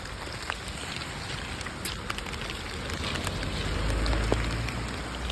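Steady rain falling and pattering on surfaces, a dense continuous wash with scattered louder drops, swelling slightly toward the end, with no voices.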